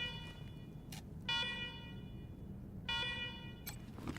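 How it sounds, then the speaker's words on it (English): Base alarm in the video game Wasteland 3, a harsh electronic tone blaring in repeated bursts of about a second each with pauses between, loud over a low background rumble. "Your base, your rules. Yep, noisy alarms and all."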